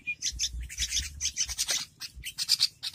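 Baby birds chirp in quick, busy bursts of high tweets, close and fairly loud, with faint scratching and rustling in between.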